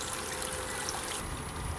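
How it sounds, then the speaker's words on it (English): Water rushes steadily through a flushing hose attached to a Yamaha outboard motor, a continuous close trickling and streaming flow. "I'm going to attach it to this, to the flushing hose there,"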